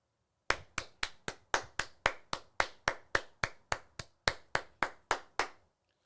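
A man claps his hands in a slow, steady rhythm, about twenty crisp, separate claps at close range in an otherwise quiet setting.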